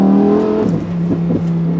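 A Lamborghini Huracan Evo V10 engine rumbles loudly at close range, a steady deep purr with a couple of brief rises in pitch as it revs, no voices over it.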